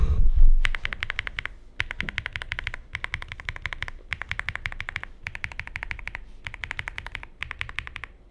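Clicky mechanical keyboard switches, Akko Creamy Blue Pro V5, typed in quick bursts of keystrokes with short pauses between, close up and fairly quiet, no talking.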